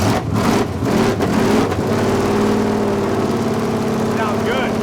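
A racecar engine catches and runs after its carburetor is pumped, a loud close rumble settling into a steady idle with light throttle blips, with people talking nearby.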